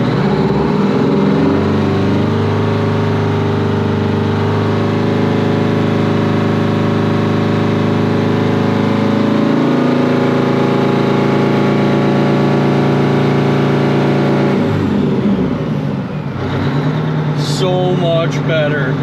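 A 1980 Peterbilt 359 with a Detroit 8V92 diesel idles at about 800 RPM, giving a steady, loud, low rumble. It runs alone for most of the clip and shifts near the end, with a few clinks and scrapes.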